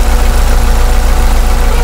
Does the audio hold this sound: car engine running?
yes